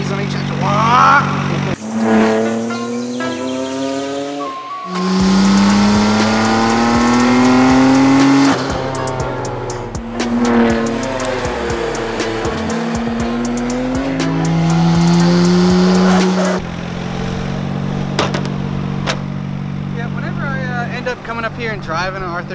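A loud, close Nissan R32 Skyline GT-R engine revs hard and climbs through the gears on a road, pitch rising and falling with brief tire squeal.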